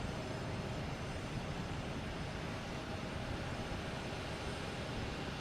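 A United Airlines jet on its takeoff roll from runway 15 Right at Boston Logan Airport produces a continuous, broad, distant roar of jet engines that holds steady throughout.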